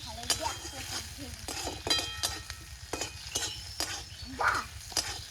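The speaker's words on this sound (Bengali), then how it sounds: "পেঁয়াজ কুচুনো লাল লাল করে ভেজে নেব হালকা করে" Chopped onions frying in oil with a bay leaf, giving a steady soft sizzle broken by repeated scraping, clinking stirs of a spatula against the pan, close and moderately quiet.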